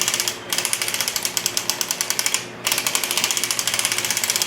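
An Erlbacher Gearhart knitting machine is cranked, giving a loud, fast, even clatter of repeated mechanical ticks that stops briefly twice and then starts again at the same rhythm.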